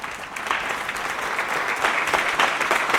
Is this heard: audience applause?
yes